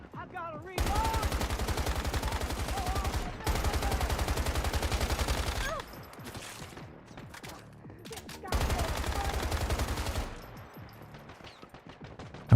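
Loud, close bursts of rapid automatic gunfire from a gun in the video game Once Human, three long volleys separated by quieter stretches of scattered game noise.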